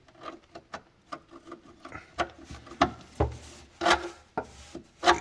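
A small flat screwdriver prying and scraping at plastic brake line clips on a Peugeot 205, giving a series of short, irregular scrapes and clicks that grow louder and sharper toward the end, with no talking.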